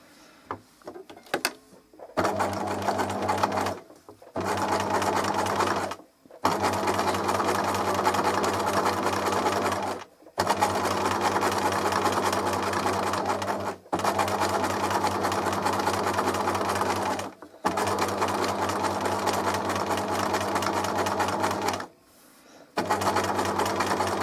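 A sewing machine stitches a piece in several runs, each a loud, steady mechanical whirr lasting a few seconds and separated by brief silent pauses, close up with no talk.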